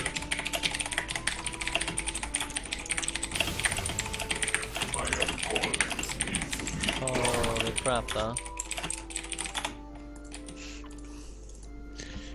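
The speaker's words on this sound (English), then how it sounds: "We should definitely show off our keyboards." Rapid computer keyboard typing clatters continuously up close during a League of Legends match, with voices chatting over it before the keystrokes thin out near the end.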